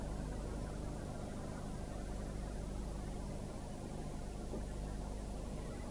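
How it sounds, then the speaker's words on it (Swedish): Steady, faint broadband rumble of traffic far off, a continuous low wash with no distinct passes or voices. "Det var bara bilar på vägen långt borta."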